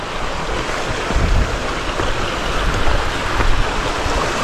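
Rushing river water while wading across a clear, shallow rural river, a steady loud broadband wash of flowing current close by with no talk.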